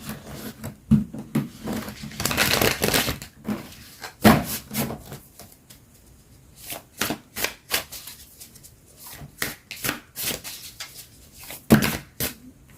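Tarot cards shuffled by hand, a run of crisp riffling bursts and sharp slaps as the deck is cut and squared, close and fairly loud with quiet gaps between, no voice.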